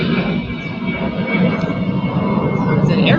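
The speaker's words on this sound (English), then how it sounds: "It's an airplane." An airplane flies overhead as a steady, broad roar that swells slightly over a few seconds, loud and continuous.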